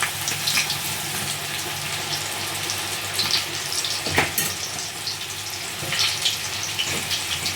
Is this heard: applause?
no